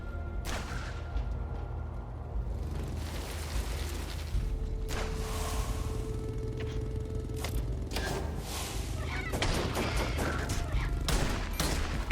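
Rapid bursts of gunfire from the video game Laika: Aged Through Blood, with repeated sharp shots scattered across a steady, dense game backdrop.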